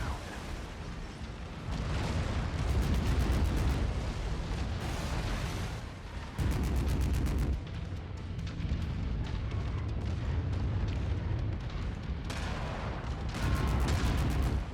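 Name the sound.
reactor explosion in a video game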